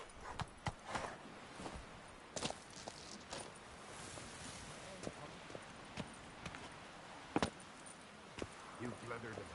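A horse gallops in The Witcher 3 video game, the quiet hoofbeats arriving as irregular thuds and clops, with a voice speaking over them.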